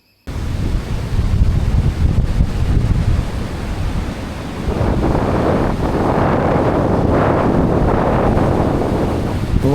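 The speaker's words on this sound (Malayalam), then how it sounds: "എന്ത് ശക്തമായിട്ടുള്ള തിരമാലയാണ്, നല്ല കാറ്റുമുണ്ട്." Strong sea waves crash on a beach in heavy wind, a loud continuous roaring surf with blustery wind buffeting the microphone.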